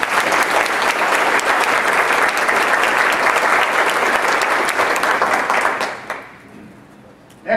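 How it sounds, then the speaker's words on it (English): Loud, dense applause from a large summit audience honoring Mary Barley, sustained and even for about six seconds before it quickly dies away. "So let's give her another applause."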